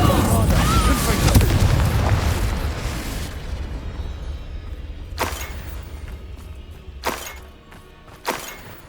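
Spell blasts in Hogwarts Legacy burst as loud booms and shattering crashes at the start, then fade to a lower rumble broken by three sharp, separate impacts, with voices calling out amid the fighting.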